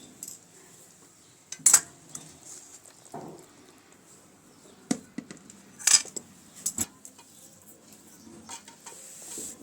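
Metal pot of Kathiyawadi dhokli shaak, a Gujarati curry, clanks as it is lifted off the stove, with a few sharp scraping and knocking hits spread through an otherwise quiet kitchen.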